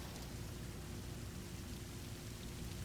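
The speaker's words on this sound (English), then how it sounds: "Sounds like it's raining outside" Steady rain falling outside a house in a VR horror game, a constant even hiss with no breaks, fairly quiet and alone with no voices.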